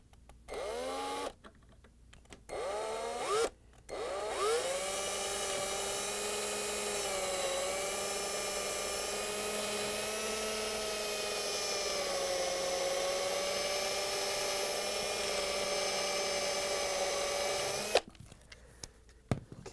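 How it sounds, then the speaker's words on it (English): A power drill bores a pilot hole for a GE range anti-tip bracket screw, with a few short starting bursts and then one long steady whine that holds for over ten seconds before stopping, close up and without speech. "So the drill should go in about 20 degrees angle."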